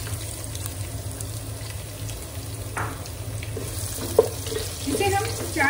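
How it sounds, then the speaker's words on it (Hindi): Chopped onion fries with cumin in a pan for mutton achari, a steady low sizzle with occasional stirring scrapes and a brief clink, continuous and close throughout. "इसे हम 4 से 5 मिनट तक ब्राउन होने तक अनियन को भूनेंगे"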